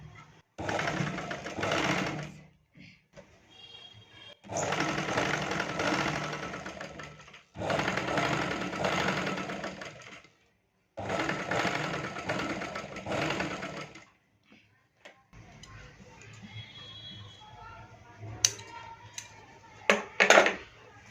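A sewing machine stitches a cross strip onto a half-bowl blouse. It runs in four steady, loud bursts of a few seconds each, separated by pauses, and then gives way to quieter handling sounds and clicks.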